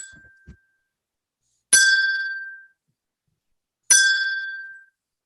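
A bright bell is struck twice a couple of seconds apart during a reading of Macbeth, each ring clear and close, decaying slowly into silence.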